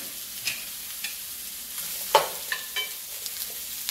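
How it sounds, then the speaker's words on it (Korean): Zucchini and carrot stir-frying in a pan, a soft continuous sizzle punctuated by scattered clicks and scrapes of a utensil, with one sharper clatter midway and no talking. "호박하고 당근하고 먼저 볶으시다가"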